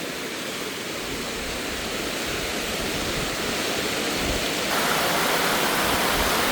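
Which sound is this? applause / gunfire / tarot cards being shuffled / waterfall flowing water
waterfall flowing water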